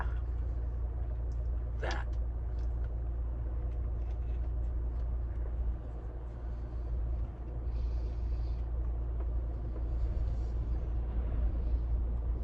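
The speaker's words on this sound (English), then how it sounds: "I did rewatch one of these recently and the engine noise really is audible" A parked car's engine idles to charge the battery, a constant low rumble heard from inside the vehicle for the whole stretch, with faint wind buffeting and a brief higher squeak early on.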